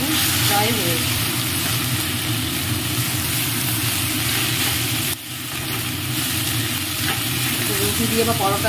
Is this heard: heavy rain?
no